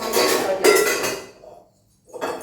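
Pots and vessels clatter and clink in a Kerala home kitchen, a busy run of metallic knocks for about a second and a half, then a pause and a quieter scrape of handling near the end.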